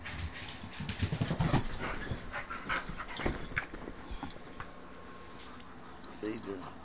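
A dog pants steadily and shuffles about while fetching the mail, its breathing close and quick beneath a person's encouraging voice.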